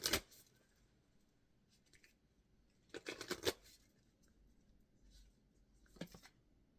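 A Moonology oracle card deck is shuffled close up and quietly, in three short bursts of riffling, papery flicks separated by near silence.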